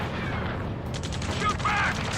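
Gunfire in the combat flight game Ace Combat 7: Skies Unknown, a spatter of distant shots and bursts in the background of a busy battle mix, muffled rather than close.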